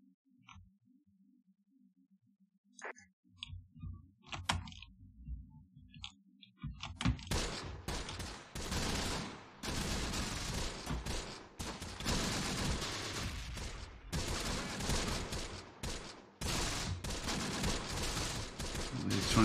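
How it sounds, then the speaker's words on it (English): A Close Combat artillery barrage and gunfire start after a quiet stretch of clicks and soft tones, swelling into dense, continuous rumbling blasts and rattling shots that keep pounding without pause. "Now we have the barrage available here as well."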